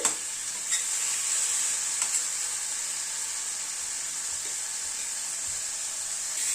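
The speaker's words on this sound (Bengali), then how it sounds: "মশলাটাকে আর একটু কষিয়ে নেব" Spice paste with melted tomato fries in a pan for a small-fish chorchori, a continuous bright hiss and sizzle with a few soft stirring taps, fairly quiet and close, no talking.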